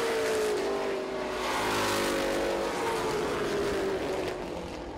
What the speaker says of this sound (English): White flag up in the air for the 36 machine of Brian Hallett